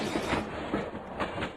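Train rolling past in a video game, a steady broadband rumble with rhythmic clickety-clack pulses throughout, fairly loud and continuous with no talk.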